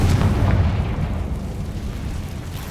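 A Confringo fire spell bursts in Hogwarts Legacy, a loud deep boom that rolls off into a fading rumble over under three seconds, with no voices.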